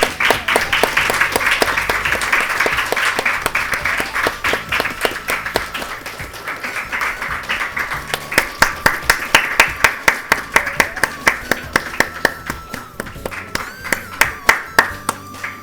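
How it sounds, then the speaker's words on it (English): Audience applause for a speaker at a talk for medical and dental students, starting as a dense wash of clapping that thins into a slower, rhythmic group clap with distinct sharp hand strikes toward the end. "Please give her a huge round of applause."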